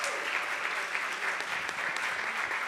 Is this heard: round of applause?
yes